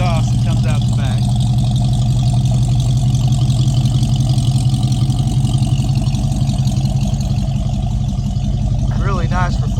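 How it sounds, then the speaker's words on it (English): A 1966 Ford Mustang coupe with a 289 four-barrel V8 and dual exhaust idles with a loud, steady, even burble, and someone talks briefly over it. "Got amazing sounding dual exhaust that comes out the back."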